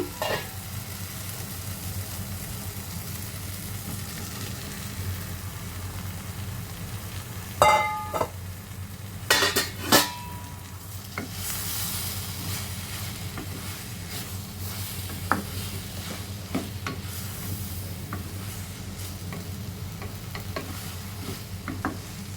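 Soya chunks stirred in a hot pan sizzle and hiss continuously, with a low steady hum beneath and a few sharp scraping clatters of a spoon against the pan partway through; no talking.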